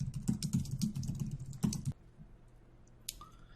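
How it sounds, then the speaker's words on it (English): Rapid typing of code on a computer keyboard, a dense run of close, loud key clicks for about two seconds, then near quiet with a single faint click near the end. "it took me about 2 minutes to type all this out"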